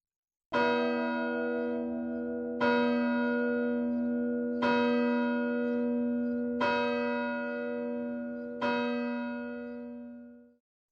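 Church bells strike midnight with five slow, evenly spaced, resonant chimes, each ringing on and overlapping the next, loud and clear with nothing else heard.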